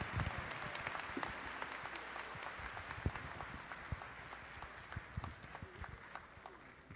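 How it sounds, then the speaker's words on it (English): A large commencement crowd applauds from a distance, a faint, steady wash of many hands clapping with a few sharper claps standing out, carrying on for several seconds. "Another big round of applause as they exit"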